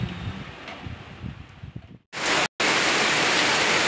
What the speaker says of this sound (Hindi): मैं आपको अभी दिखाती हूँ बाहर कितनी तेज बारिश हो रही है।